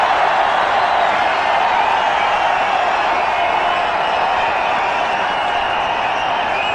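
A cricket stadium crowd at a 2007 India versus Australia one-day international final roars steadily, a dense, continuous wall of cheering and applause that stays loud throughout without a break.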